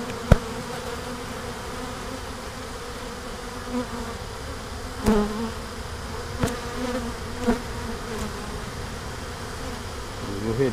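Honeybees buzz steadily around an opened top bar hive, a dense continuous hum close by with a few brief knocks and clicks from working the comb; no one speaks.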